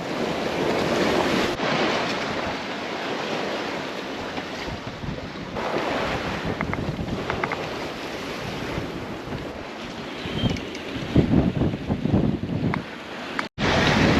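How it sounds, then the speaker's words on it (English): Ocean waves wash steadily around a sailboat on the open sea during a long solo passage from Panama to the Marquesas, with constant wind rushing across the microphone and occasional louder splashes against the hull. "I love watching the waves from my balcony"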